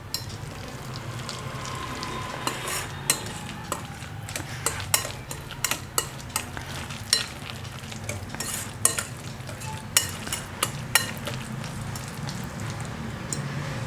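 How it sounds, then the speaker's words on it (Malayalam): Grated coconut is stirred into a banana mixture in a pan, with a busy run of quick spoon clicks and scrapes against the metal over a low, steady bed of noise for about fourteen seconds. "നന്നായിട്ടൊന്ന് ഇളക്കി കൊടുക്കാം."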